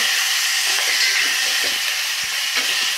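Finely chopped tomato added to hot tempering with fenugreek seeds for Maharashtrian varan dal, a steady close sizzle and hiss of frying oil with faint stirring taps, no speech.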